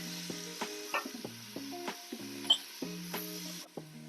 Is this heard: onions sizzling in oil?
yes